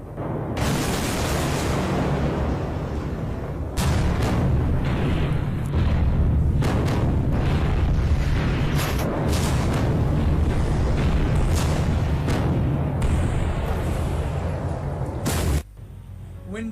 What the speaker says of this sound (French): L'explosion a frappé avec la force d'un tremblement de magnitude